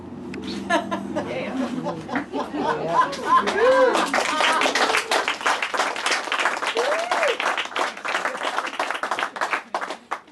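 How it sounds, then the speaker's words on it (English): An audience claps and laughs partway through a poetry reading, a dense burst of applause with chuckles that swells and then thins out into scattered claps under voices. "nobody ever clapped in the middle of this poem before"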